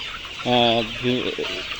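A layer hen clucks twice in short, throaty bursts, fairly close, over a steady hiss of background noise.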